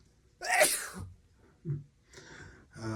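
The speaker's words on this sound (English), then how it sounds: "responds by sneezing violently into her mostly disintegrated Kleenex tissue" A woman with a very red nose sneezes violently into a mostly disintegrated Kleenex tissue, a sharp loud burst followed by quieter sniffs and breathy sounds close to the listener.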